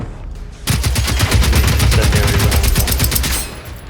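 Rapid bursts of automatic fire from an experimental incendiary weapon in the Generation Zero video game ring out loud and close for about three seconds, with evenly spaced sharp reports.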